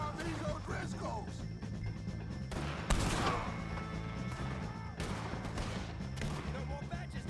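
Gunfire in the Red Dead Redemption 2 video game during a shootout against O'Driscolls: a few sharp, scattered shots over a steady bed of tonal game music.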